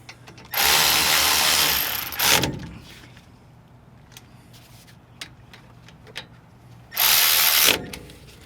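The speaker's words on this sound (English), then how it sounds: "Then I'll come with my electric ratchet and I'll go ahead and just snug them up." An electric ratchet snugs brake bolts on a 2009-18 Dodge Ram 1500 front brake job, buzzing loudly in two bursts, a long whir followed after a quiet gap by a shorter one.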